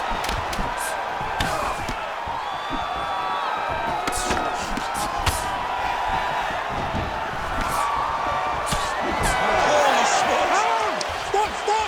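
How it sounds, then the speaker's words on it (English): A large video game crowd at a boxing-style fight murmurs and reacts with rising oohs and ahs, over sharp thuds and impacts of big blows, while a voice talks throughout. "you hear the oohs and ahs from the crowd"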